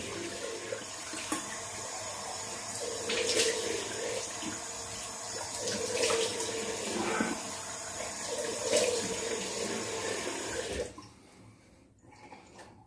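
A cold-water tap runs steadily with a broad hiss and splash, close and fairly loud for about eleven seconds before cutting off to near quiet.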